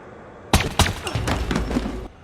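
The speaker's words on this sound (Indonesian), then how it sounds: "orang itu langsung menghabisi Patricia dengan 2 kali tembakan" Gunshots in an action film scene, several sharp loud cracks and thuds in quick succession, the first two prominent, followed by a dense burst of impacts before cutting off.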